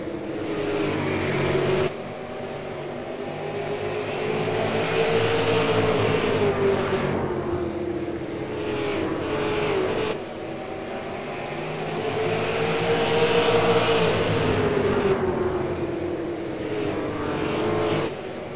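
Race cars circle a short oval track running nose to tail, a continuous loud engine roar that swells and fades as the pack passes, repeating in two clear sweeps.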